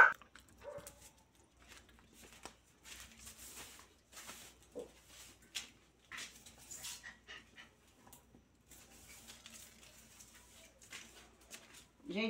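A female dog pants and gives a few soft whimpers and short barks, close by, with people talking intermittently in the room.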